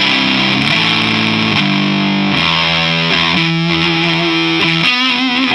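A Schecter electric guitar plays low-string riffs through heavy distortion, loud and continuous, with thick, gritty chugging notes that shift pitch every second or so.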